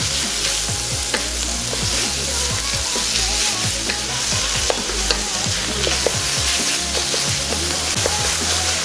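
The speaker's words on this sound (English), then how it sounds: "go ahead and add 6 ounces of ground pork and start fry everything together" Ground pork stir-fries in a hot pan with a loud, steady sizzle, while a utensil scrapes and stirs in repeated clacks throughout.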